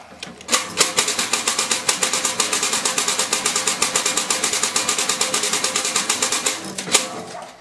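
A replica device mimicking a machine gun gives a loud, fast, even rattle of rapid clacking bursts that starts abruptly, runs for several seconds and stops, with no talking.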